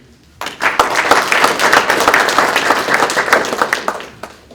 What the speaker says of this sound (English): And now, a round of applause for all of you.